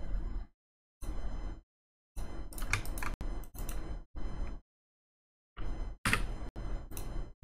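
Bursts of typing on a computer keyboard, close and fairly quiet, come in several short runs of rapid key clicks separated by brief silences.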